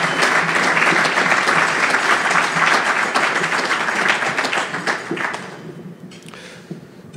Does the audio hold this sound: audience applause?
yes